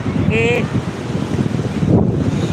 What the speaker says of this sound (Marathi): हे दिव्याघर समुद्र आहे